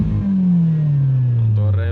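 A Fiat Punto with a belt-driven supercharger and 2.5-inch exhaust revs up loud and close, its engine note sliding downward as the revs fall over two seconds.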